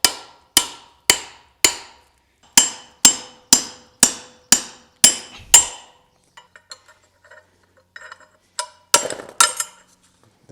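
Sharp metal hammer blows ring out as a head bearing is knocked off the steering stem of a Kawasaki VN1500 Meanstreak motorcycle; about ten evenly spaced strikes, then faint clinks and a final quick flurry of hits.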